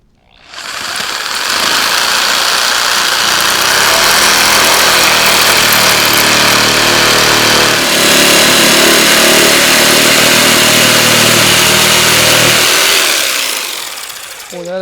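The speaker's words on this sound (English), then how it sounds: "It won't run my skill saw, but it'll run this jigsaw just fine." A jigsaw cuts through hard, knotty sawmill lumber, a loud, close, continuous buzzing whine that holds steady for over ten seconds before stopping, with a faint voice underneath.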